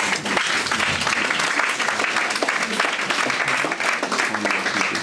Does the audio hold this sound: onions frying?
no